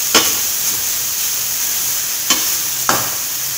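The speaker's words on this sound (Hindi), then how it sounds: "अब इसमें मूली शामिल कर देंगे, अच्छे से मिक्स करेंगे, इसको हल्की आंच पे भूनेंगे इसको अच्छे तरीके से" Grated mooli radish stirred and roasted over low heat in a pan, a steady soft sizzle with three sharp scrapes of a spoon against the pan spaced through the stretch, no voices.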